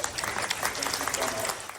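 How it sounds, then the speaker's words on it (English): A room of financial advisors at a presentation applauds, a brief burst of dense clapping with some audible crowd murmur mixed in. "Let's give a round of applause really quick."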